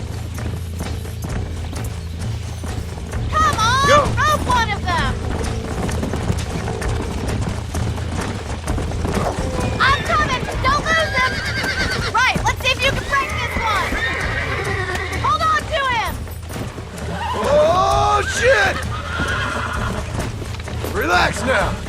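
Horses in the Red Dead Redemption video game neigh and whinny repeatedly during a horse race, with clip-clopping hooves underneath and an excited voice talking over them.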